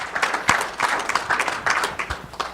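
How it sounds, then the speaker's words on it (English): Light, scattered clapping from a small audience, a round of applause at an indoor session, with uneven bursts of handclaps at moderate loudness and no talk over it. "Let's have a round of applause,"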